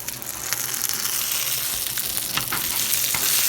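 Scallions charring in a hot frying pan, a close, steady crackling sizzle with bright spitting pops and some stirring, no voices.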